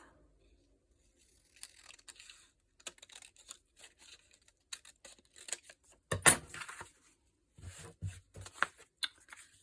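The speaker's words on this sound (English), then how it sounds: "Just cut this edge off." Paper being cut along the edge of a vintage book page for a hinged folder craft project, producing a series of soft, close crisp rustling snips and slices, with an irregular rhythm and a louder burst partway through.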